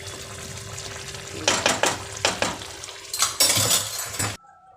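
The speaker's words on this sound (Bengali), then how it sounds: "এখন ঘি দিয়ে দিব, ঘি দিয়ে দিচ্ছি, ঘি দিয়ে দিচ্ছি।" Ghee hits a hot pan while potoler dolma, stuffed pointed gourd, cooks. It sizzles in short bursts mixed with utensil scrapes and clinks, then cuts off abruptly near the end.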